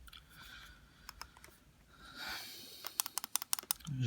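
Five quick button clicks on a Hotcig R200 vape mod being switched off, sharp, close, fast taps in a tight burst after some faint handling noise.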